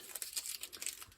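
Adhesive tape peeled off a flower painting in a series of quick crinkly, tearing bursts, close and fairly quiet, with no talk.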